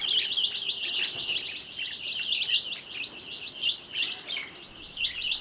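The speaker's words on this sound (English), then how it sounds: "The crisp morning air is punctuated with the chatter of galahs and mulga parrots." Galahs and mulga parrots chatter on a crisp early morning in the Mallee country of southeastern Australia, a flock giving rapid, overlapping high chirps and squawks in bursts that rise and fall, fairly close.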